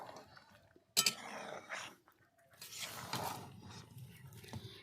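Rooster chicken curry is stirred in a pot, with a sharp metallic clink followed by soft scraping and sloshing, close but faint, and some quiet background noise.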